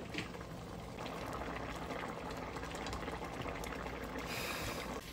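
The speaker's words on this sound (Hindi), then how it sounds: "तो चिकन टमाटर और मसाले के साथ अच्छे से पकेगी 5-6 मिनट।" Chicken simmers with tomato paste and spices for restaurant-style butter chicken, giving a steady, even bubbling and sizzling hiss that runs without pause at moderate loudness.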